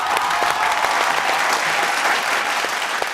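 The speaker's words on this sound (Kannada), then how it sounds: "ಸೊ ಮತ್ತೊಮ್ಮೆ ವುಮೆನ್ ಕ್ರಿಕೆಟರ್ಸ್ಗೆ ಬಲಿಜವಾದ ಚಪ್ಪಾಳೆ" Audience applause for India's women cricketers on a television show, loud continuous clapping from a crowd with scattered sharper claps, close and sustained throughout.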